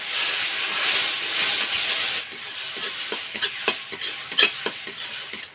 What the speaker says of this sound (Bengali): মশলাটা আমাদের ভালো করে কষানো হয়ে গেছে।